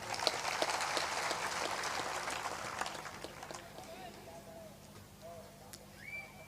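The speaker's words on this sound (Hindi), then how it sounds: "ताली बजा दिया करो।" Audience clapping at a spiritual discourse gathering, a scattered burst of claps that is loudest at first and thins out, with faint voices and stray sounds beneath it.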